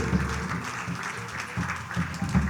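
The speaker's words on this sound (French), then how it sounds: "que l'on peut également applaudir encore, s'il vous plaît." An audience at a live dance and percussion performance claps for the dancers and musicians, a soft, steady patter of applause with a faint voice underneath.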